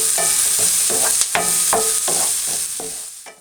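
Onions for a Texas beef chili fry in a pan with a close, bright sizzle. Rhythmic scrapes and knocks of stirring repeat roughly every half second, then the sound fades slightly at the end.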